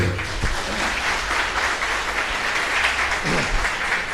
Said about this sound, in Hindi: एक अच्छी ताली फिर से।